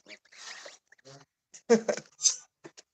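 A goose with goslings nibbling food at night, giving short soft honks and quacky calls in brief bursts close by, while a person talks between them.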